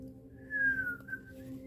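A person whistles a single drawn-out tone that slides downward then up, clear and close over a low steady hum in a quiet room.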